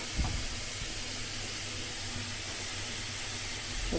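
Grated ginger going into hot oil in a pan for a winter egg, potato and cauliflower curry gives a steady, close sizzling hiss that holds evenly throughout.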